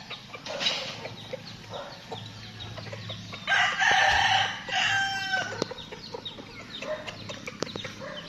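A fighting rooster crows at a rural farmyard, one long clear crow rising over clucking hens and scattered bird calls, moderately close in an open outdoor setting.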